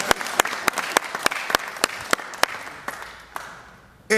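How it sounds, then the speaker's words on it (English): A small audience at a press conference gives a round of applause, with distinct, evenly spaced claps standing out over a softer bed of clapping that gradually tapers off. "Yeah, that deserves a round of applause."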